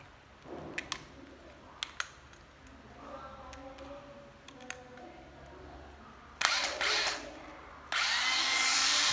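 A used Japanese cordless drill, a secondhand import, runs in bursts with a smooth whirring hum, punctuated by a few sharp clicks early on and louder surges near the end, close to the listener.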